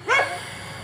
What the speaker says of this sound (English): And you hear them dogs barking up there?